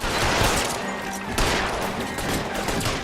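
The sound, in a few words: gunfire in the L.A. Noire video game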